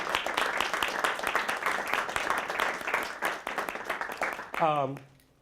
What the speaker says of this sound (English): Please give it a hand of applause.